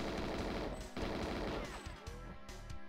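Gunfire in GoldenEye 007 on the N64, a loud, rapid burst of automatic shots in a continuous stuttering stream with sharp, crashing impacts, broken by brief pauses near the end.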